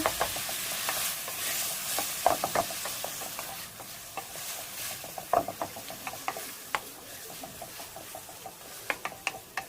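Chopped tomatoes for tomato thokku sauté over medium flame, about three-quarters of a kilo of them. A steady sizzle runs under repeated quick clicks and taps of a spatula scraping the pan, and there is no talk.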